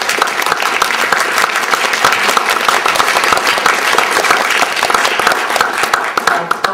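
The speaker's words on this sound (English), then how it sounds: "we should all give another round of applause to them for their incredibly fearless path-breaking work" Sustained audience applause at an academic conference on queer studies, a dense, loud clapping from a large crowd that holds steady throughout without talk.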